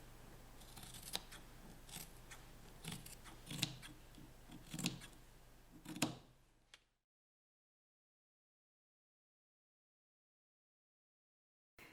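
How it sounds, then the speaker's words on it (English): Scissors trim seam allowance from denim jeans fabric, giving a series of crisp, close snips at an irregular rhythm for about six seconds before silence, with one faint click at the end. "I'm going to trim off the seam allowance on this piece."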